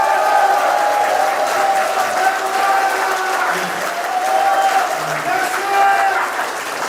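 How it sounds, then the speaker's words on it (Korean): Crowd applause and cheering at a political party rally and regional economy forum in Daegu, South Korea: sustained, loud clapping with voices shouting over it, continuous for several seconds. "큰 함성과 격려의 박수 다시 한번 부탁드리겠습니다"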